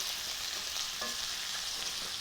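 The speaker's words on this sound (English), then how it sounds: "Love the smell of frying onions." Onions for German goulash sizzle and crackle steadily in a hot pan, a continuous close frying hiss with a faint clink partway through.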